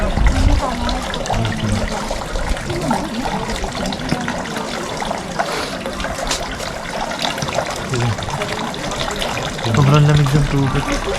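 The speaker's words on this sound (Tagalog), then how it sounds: "Water for washing and drinking." Cold water runs steadily from a hand-washing fountain at a Japanese temple in Nara, a continuous splashing flow with brief louder gushes, while people talk nearby.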